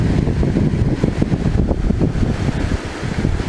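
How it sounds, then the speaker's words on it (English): Steady, loud wind buffeting the microphone while trout fishing on a camping trip, a continuous low rumble with gusty fluctuations and no talking. "It's a little windy down here"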